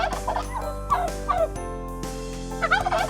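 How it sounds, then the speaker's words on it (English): A farm turkey gobbling in several rapid, warbling bursts, close and clear over a steady low hum, with no voices. "Let's see how turkey makes sound."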